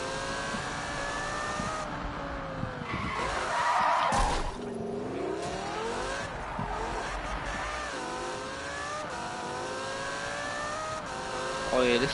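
A Lamborghini Huracan in a video game revs and shifts through a chase with a cop car, its engine pitch rising and falling in harmonic sweeps, with a burst of tire skid midway, loud and close throughout.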